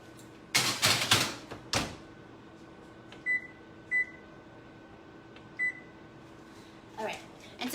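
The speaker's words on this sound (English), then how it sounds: "now I'm just gonna put them in the oven for" Keto chocolate chip cookies go into an oven and it is set: a few loud clunks and handling noises, then a series of short electronic beeps from the control panel, with some talk.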